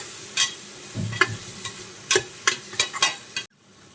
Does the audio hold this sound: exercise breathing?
no